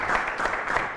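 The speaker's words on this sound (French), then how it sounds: "Oui, vous pouvez applaudir pour vous." Studio audience of University of Kigali guests at a comedy show applauding, a dense, loud wash of clapping that pulses steadily through the moment with no talking over it.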